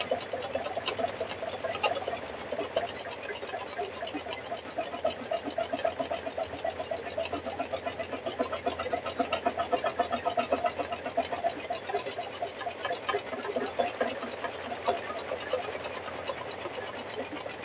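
An embroidery machine stitching an appliqué keychain in its hoop, giving a steady, fast mechanical needle rattle that runs without pause for the whole stretch, close and alone.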